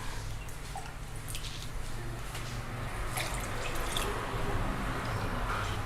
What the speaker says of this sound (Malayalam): വെള്ളം ഒഴിച്ച് വെക്കുകയാണ്.